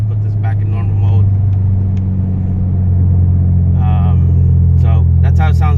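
Inside the cabin of an EcoBoost Mustang fitted with an MBRP catted downpipe and full race catback exhaust in normal mode, a low, steady engine drone hums under people talking.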